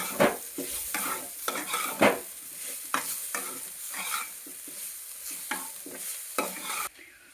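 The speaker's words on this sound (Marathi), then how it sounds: "आता त्यामध्ये आपण परतलेला कांदा टाकू आणि मिक्स करून घेऊ त्याला." A spoon scrapes and stirs repeatedly through a sizzling fried onion mixture in a kadhai, in quick irregular strokes.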